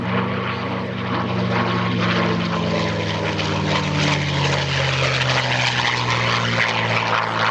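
Propeller airplane taking off from runway 18 at the EAA AirVenture airshow, a steady, loud droning engine and prop roar with strong low harmonic bands, holding continuously throughout at close range.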